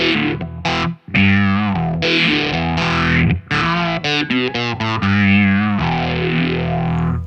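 An electric guitar played through a Line 6 AMPLIFi amp with light reverb rings out in a loud, distorted, chorus-tinged melodic phrase of sustained and bending notes, with no talking.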